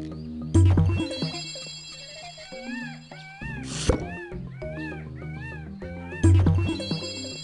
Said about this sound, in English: Maybe we should go see that cat we saw by the river.